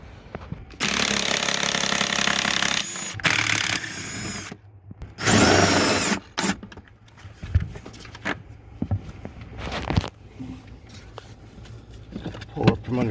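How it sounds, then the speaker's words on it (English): A power tool whirs in loud bursts, backing out Torx screws and a recessed 13mm bolt from a panel on an International LT truck, with scraping and clunking handling noises between the runs. "I'm going to remove those two Torx screws right there"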